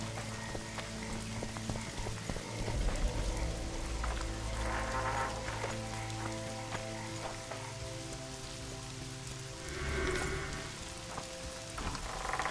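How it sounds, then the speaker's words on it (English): Steady rain in The Witcher 2 video game patters continuously on a surface, with soft scattered drips and a low rumbling bed beneath, no voices. "Yes, because it's raining."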